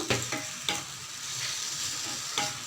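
Steady sizzling of prawns frying in hot oil, with a few sharp scraping stirs of a utensil against the pan; no voices.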